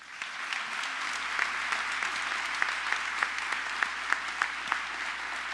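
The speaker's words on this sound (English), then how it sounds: "And I think right now we owe a round of applause to Steve Nedlick." Audience applause at an opening-day school event, a steady wash of clapping with sharper individual claps standing out, fairly close and continuing throughout without talk.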